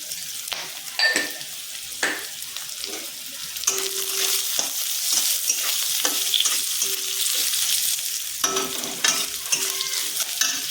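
Onions fry with salt in a pan, a loud, close sizzle with intermittent spatula strokes scraping and tapping the pan at irregular intervals.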